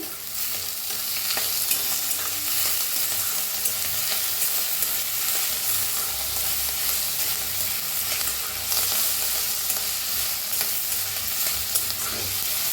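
Onion, tomato and coriander fry in a pan while being stirred, making a continuous crackling sizzle with frequent scraping stirs, close and steady, with no voices.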